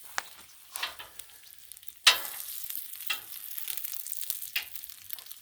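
Breakfast food frying on a Blackstone griddle, a close, crisp hiss with bursts of crackling and one sharp loud scrape or sizzle flare, then continued spattering sizzle.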